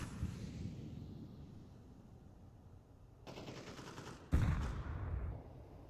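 Faint gunfire in the shooter Counter-Strike during an ESL Challenger League match, a distant rumble broken by two sharper bursts near the end.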